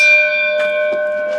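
A bell sound effect rings out as one loud, sustained metallic tone with ringing overtones that slowly decays, with faint soft taps over it.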